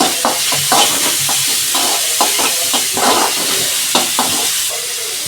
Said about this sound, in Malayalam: ഇപ്പോൾ സവാള വാടി വരാൻ വേണ്ടി നമുക്ക് അതിലേക്ക് ഇച്ചിരി ഉപ്പും കൂടി ഇട്ട് കൊടുക്കാം.